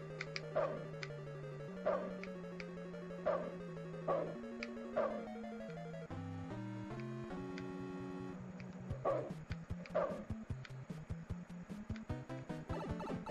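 Wolf Link from the video game Twilight Princess HD barks in a run of short, evenly spaced yelps over steady in-game music, then a few more barks follow after a pause.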